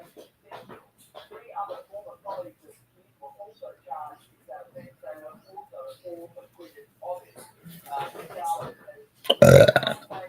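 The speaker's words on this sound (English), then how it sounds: "Just let out a burp." A single loud, close burp breaks out near the end, right after a stretch of steady conversational talk.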